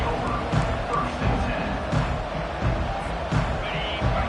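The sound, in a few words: football stadium crowd noise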